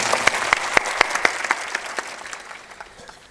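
Audience at a public gathering breaking into loud clapping, a dense burst of many hands that fades away over a few seconds, with no voices.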